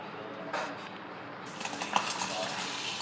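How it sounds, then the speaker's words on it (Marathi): Ponge, puffed fryums, frying in a pan of hot oil, a continuous hiss and crackle that grows busier and sizzles more densely partway through, with occasional clinks of a utensil. "आणि आता इकडे ना पोंगे तळून घेते."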